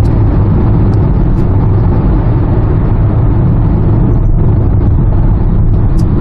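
A 2019 Hyundai Tucson gasoline turbo engine pulls under steady throttle up a slight incline, a loud, constant drone of engine and road noise heard from inside the cabin without talk.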